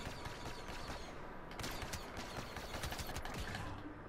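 Blaster and targeting-rifle fire in a Star Wars Battlefront 2 multiplayer battle, a dense stream of rattling shots amid constant battlefield noise, moderately faint and steady with no talking.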